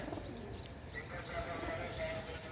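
Pigeons let out of their loft coo softly outdoors, low and muffled, in a steady wash of background noise.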